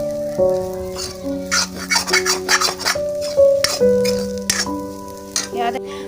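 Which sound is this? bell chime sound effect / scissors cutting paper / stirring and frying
stirring and frying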